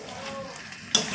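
Mutton leg pieces are stir-fried kosha-style in a pan, producing a low, even sizzle that ends in a sudden louder burst of hissing near the end, with no voices.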